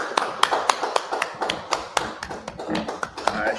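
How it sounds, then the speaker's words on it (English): Hands clapping in rhythm at a gathering, a steady series of sharp claps roughly every quarter second, close and fairly loud, with faint voices underneath. "clap it up."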